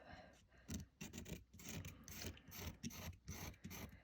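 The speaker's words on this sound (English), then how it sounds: "Just look how nicely that scrapes right off." A soft pastel stick is scraped into powder with close, faint, raspy strokes in a quick uneven rhythm, with brief pauses between scrapes and no talking.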